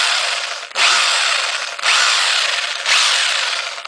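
A Boray hammer drill running in hammer mode gives a loud, harsh, rattling roar in three sustained bursts separated by brief dips, with no talking.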